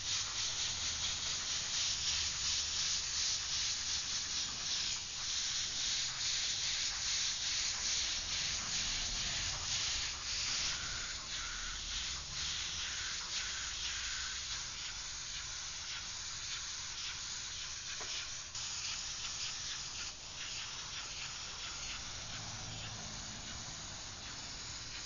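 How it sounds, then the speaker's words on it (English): An airbrush sprays paint from a color cup in steady, continuous hissing passes, close and even in level throughout, with no talking over it. "Okay, now we're ready to start spraying some color. I got my airbrush and my color in the cup."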